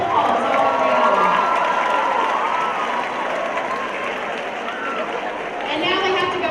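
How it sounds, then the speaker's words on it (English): Loud sustained applause and cheering from a crowd at a school gathering honoring a state champion mock trial team, dense clapping with shouts and chatter throughout. "Give them a nice round of applause all around."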